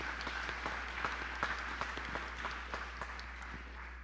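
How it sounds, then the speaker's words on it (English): A church congregation claps at a Sunday flower communion service: steady, moderately close applause of many hands, individual claps audible throughout, with no talking over it. "I think our pledge drive team also deserves a round of applause."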